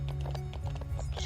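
Horse hooves clip-clop in a quick, steady rhythm in the ranch game The Ranch of Rivershine, close and clear with a faint whinny-like tone behind.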